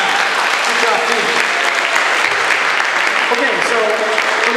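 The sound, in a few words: audience round of applause at a band concert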